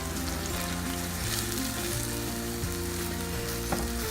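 Beaten eggs with salt and pepper frying in a pan with tuna and tomato, a loud, steady sizzle with faint stirring scrapes, no voices.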